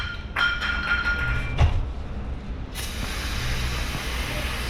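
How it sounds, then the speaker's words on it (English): Aerosol spray blasting brake cleaner onto a quad-piston fixed brake caliper on a 2020 Toyota 4Runner, a steady hiss starting partway through and running on to the end, with a faint thump early on. "While this is off, I'll spray this one out."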